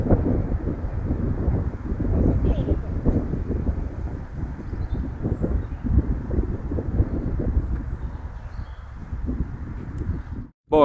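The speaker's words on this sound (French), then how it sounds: "Avec le vent de face là vraiment fort" A strong headwind blows across a golf course, buffeting the microphone with loud, continuous low rumbling and gusty roar that hardly lets up for about ten seconds before cutting out abruptly.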